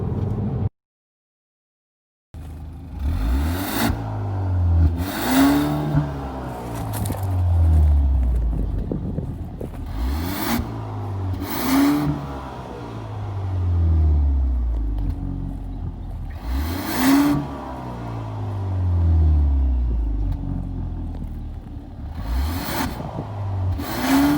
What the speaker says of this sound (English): So getting onto the highway here, this is the first time taking it to highway speeds.